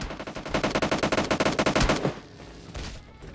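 An automatic weapon fires in the video game PUBG Lite: a loud, rapid burst of shots in fast rhythm for about two seconds, followed by a few scattered quieter shots.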